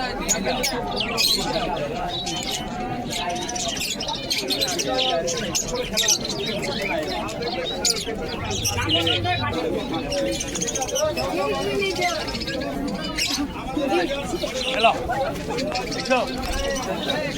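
Doves coo among other small birds at a busy village pigeon market in Beldanga. Their soft calls are mostly buried under constant crowd chatter, and someone talks throughout.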